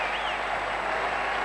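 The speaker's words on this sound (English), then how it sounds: "they stand, as do many of the audience, and receive a tremendous round of applause" Sustained applause from an ice-rink crowd after Torvill and Dean's free dance at the 1994 Lillehammer Olympics, a dense steady wash of clapping and cheering heard alone throughout.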